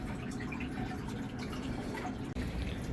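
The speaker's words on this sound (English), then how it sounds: "This is my RODI unit. How it slowly fills, and right now I'm refilling my salt water bin" A RODI water unit slowly refills a saltwater aquarium bin, giving a continuous close trickle with soft, irregular drips throughout.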